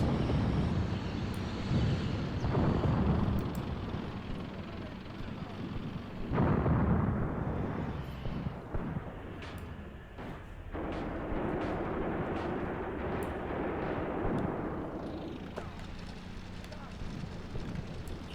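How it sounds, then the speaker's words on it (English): Booming, rumbling explosions recur over a steady roar of battle noise in a World War II desert battle video game, with a few louder bursts and someone talking over them. "No vehicles, just continuous explosions, I suppose."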